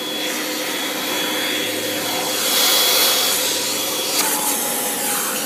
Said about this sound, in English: the dirt in the vacuum cleaner bag